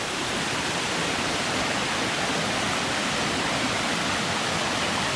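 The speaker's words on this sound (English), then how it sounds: "this runoff is turned into a bit of a waterfall now" Dense, continuous rush of a small waterfall formed by jungle runoff, close and loud with no let-up or other sounds.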